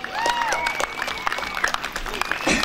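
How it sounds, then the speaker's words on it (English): Crowd applause for performers at a weekend music event, a busy patter of clapping with whistles and cheers mixed in and voices calling out over it. "can we please give them a round of applause for being so amazing?"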